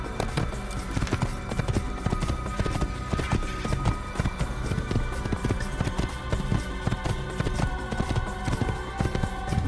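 Horse hooves clip-clop in a fast, steady galloping rhythm throughout, with in-game ambience and music underneath, from Assassin's Creed gameplay on a road.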